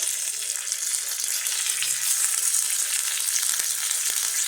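Curry leaves and black mustard seeds sizzle in oil in a constant soft hiss, sprinkled with small pops and crackles, with no voices over it.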